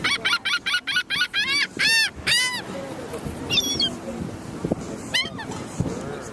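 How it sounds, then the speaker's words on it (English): Seagulls of several kinds calling while being fed by hand, with repeated sharp, close squawks in quick bursts at first and then scattered cries, as someone talks over them. "There's different kinds of seagulls."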